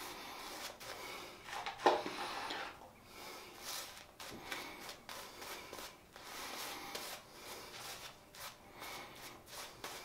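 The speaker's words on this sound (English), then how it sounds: "Looks like we are bowl lathering after all." A shaving brush lathers Seaforth Spiced soap in a bowl, giving a steady wet rubbing and swishing that rises and falls in repeated strokes, close and moderately quiet, with no talk.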